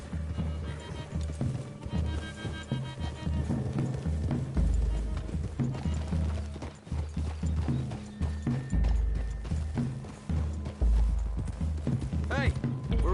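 Horses in a video game clip-clopping at a trot, hoofbeats rhythmic under music and voices, with a horse whinnying near the end.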